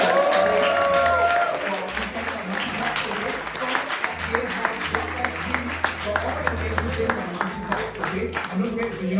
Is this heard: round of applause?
yes